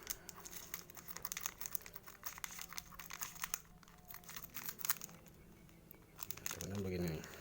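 Peeling ingredients for homemade fish bait for nilem and wader fish gives close, dense crinkling and tearing crackles that continue for several seconds, with a brief voice near the end.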